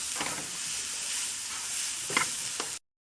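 Grated carrots cooking in ghee in a pan, a steady close sizzle and hiss with a couple of stirring scrapes, running continuously before cutting off abruptly.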